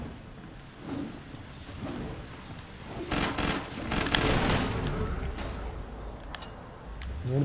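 Railgun shots and other weapon fire in the Killing Floor 2 video game sound as bursts of sharp cracks, with a dense loud cluster in the middle over a steady low game rumble.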